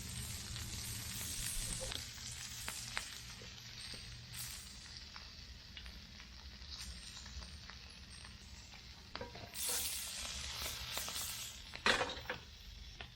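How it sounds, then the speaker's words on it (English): Wahoo liver searing in a smoking-hot pan, a steady broadband frying sizzle running throughout with a few brief clinks and utensil knocks, fairly close and moderately quiet, with no talking. "That's the sizzle I wanted."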